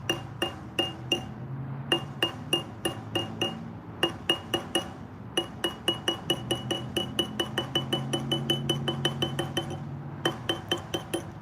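A hammer taps a metal grease cap onto a utility trailer hub, striking around the edge in a long run of sharp, ringing metallic clinks, in steady bursts with short pauses, close and clear, with a voice talking low underneath.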